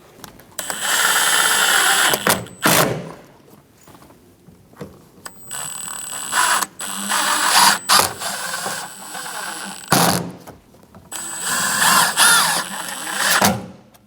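Power drill driving sun visor screws in a Chevrolet Express 2500 van, several loud, close, whirring bursts of a few seconds each, separated by short pauses and handling noise.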